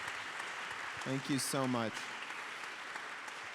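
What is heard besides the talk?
audience applause for panel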